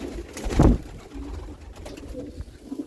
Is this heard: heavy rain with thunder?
no